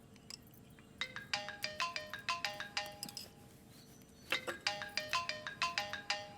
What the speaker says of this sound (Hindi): इसलिए माँ का फोन है